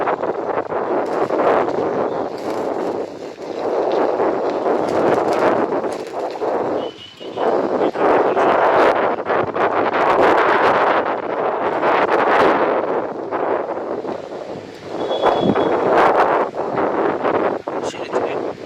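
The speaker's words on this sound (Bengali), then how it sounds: "ছেড়ে ছেড়ে ভালো হাওয়া দিয়েছে।" Gusty wind on the Kopai riverbank buffets the microphone, rising and falling in loud rushing surges, with a brief lull partway through.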